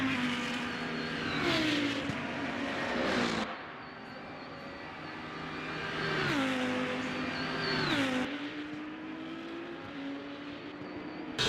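Race car engines in the Le Mans Ultimate sim racing game, including a Porsche and a Corvette, with loud revving surges rising and dropping through gear changes as cars accelerate and brake, interrupted by a brief quieter lull.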